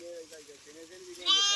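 A sheep bleats in a wavering, drawn-out call while grazing in a field, fairly close, followed by a brighter sharper sound at the end.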